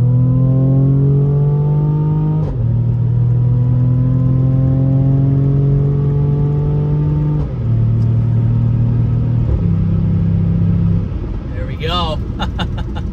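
A Mercedes-AMG GLE 43 builds speed hard, its engine note climbing steadily through gears with clear shift breaks, loud and continuous from inside the cabin, with a brief high chirp near the end.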